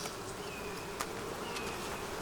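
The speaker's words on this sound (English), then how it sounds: "Oh, that is a bee that they're pulling out." Honey bees buzzing steadily at an open hive during an inspection, a close continuous drone with a few brief clicks, no talking.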